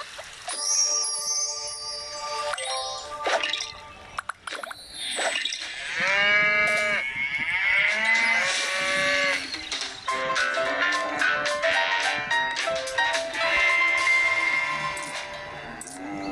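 Cartoon cows in the FarmVille 3 farm game moo repeatedly, drawn-out loud calls overlapping one another in a busy run with light chimes between them, alone without talk.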